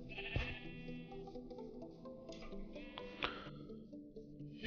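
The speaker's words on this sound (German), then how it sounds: "hier habe ich schon mal ein paar Schafe eben eingegattert" Several sheep bleat in a Minecraft Pocket Edition game, their video-game bleats wavering and overlapping, moderately close against a steady background hum, with no voices.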